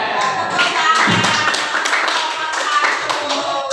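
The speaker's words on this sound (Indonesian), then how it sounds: "Tepuk tangan." Children clap their hands in a classroom, a dense run of quick, uneven claps carrying on for several seconds with faint voices underneath.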